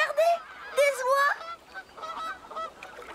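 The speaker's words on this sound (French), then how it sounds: "Oh, regardez, des oies." Cartoon geese honking in a noisy flock, loud nasal calls rising and falling in bursts over about three seconds, then continuing more faintly.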